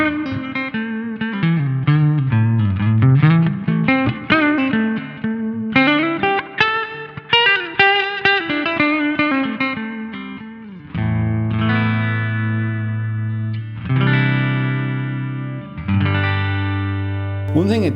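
A 1968 Gibson 330 semi-hollow electric guitar with P90 pickups is played through distortion, first a run of quick picked melodic notes, then a few heavy sustained chords ringing out up close.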